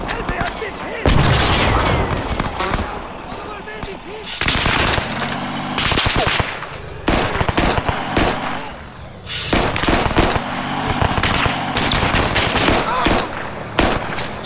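Gunfire and a grenade blast in the Arma 3 military game, with repeated bursts of automatic fire and heavy booming impacts cutting in and out across a long, loud firefight, a voice talking briefly beneath.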